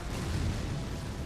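A booming explosion in the action game Elden Ring, a continuous heavy rumble with a broad roar that holds steady for a moment without any talk.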